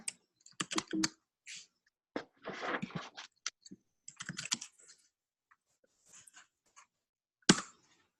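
Keys tapped on a computer keyboard in short, quiet bursts of clicks with pauses between them, close to the microphone and with no talking.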